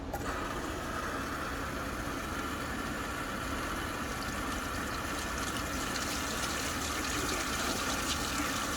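A garden hose runs water steadily through the cooling system of a 2005 Toyota Camry during a coolant flush, giving a constant, close gushing rush that never breaks over nearly nine seconds, with no talking.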